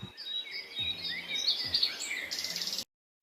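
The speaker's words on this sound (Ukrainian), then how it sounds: "Можна почути спів птахів." Several birds chirp and warble in bright overlapping calls, fairly close, with faint background noise before the sound cuts off abruptly.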